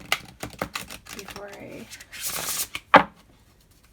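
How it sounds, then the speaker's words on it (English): A new deck of oracle cards being shuffled, with a run of quick riffling and slapping card sounds close by, broken up by brief speech and a sharp louder snap near the end. "I'm going to shuffle them really good first"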